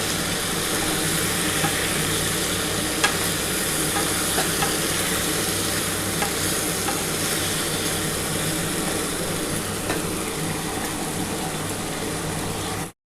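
Spice paste with chickpeas, potato, pointed gourd and green banana being worked in a pan, a steady close sizzle with continuous stirring and scraping throughout, with no talk.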